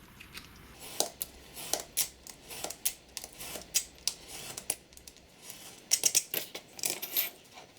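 Scissors snipping through paper pages for a mini junk journal made from a vintage matchbox, a series of short, crisp cuts at an uneven rhythm, close and fairly quiet with no talking.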